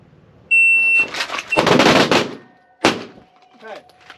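A shot timer's sharp electronic beep at a speed and accuracy shooting course, followed at once by a quick string of loud pistol shots from a Shadow Systems MR920 and then a further single shot.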